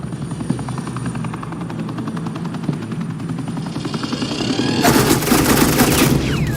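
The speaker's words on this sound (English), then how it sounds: "suppressing fire." Suppressing fire in a Batman action video game, heard as a steady helicopter-like drone with rapid rattling bursts and a sharper burst of gunfire breaking in loud toward the end, with no talk.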